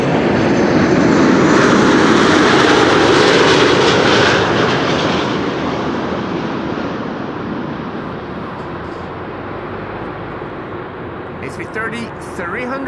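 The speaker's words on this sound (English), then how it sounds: "This is Turkish flight 1951 arriving from Istanbul." A Turkish Airlines Airbus A330-300, nearly ten years old and arriving from Istanbul, lands at Amsterdam Schiphol. Its loud, close jet roar peaks early, then slowly fades into a lower rumble.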